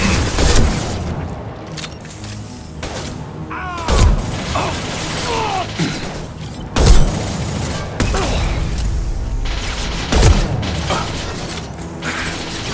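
Gunfire and heavy impacts in a Mass Effect 2 firefight, loud bursts and booms at irregular intervals with mechanical clatter between them, all close and dense.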